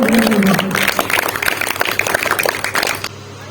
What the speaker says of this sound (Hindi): जोर से तालियां बजा करके उसको